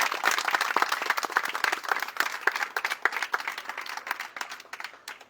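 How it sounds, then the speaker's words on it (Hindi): A crowd at a teacher recruitment protest rally bursts into steady, loud applause, many hands clapping together close by and gradually thinning out toward the end. "आपने तालियों से अपना स्वागत कीजिए"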